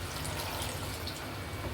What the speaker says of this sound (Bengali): আমি ঝোলের জন্য হালকা একটু পানি দিয়ে দেব